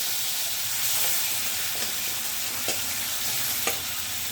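Vegetables (potato, radish, eggplant, flat beans) fry in hot oil tempered with nigella seeds, turmeric and slit green chili for a Bengali small-fish curry. A loud, steady sizzle and hiss carries a few sharp pops.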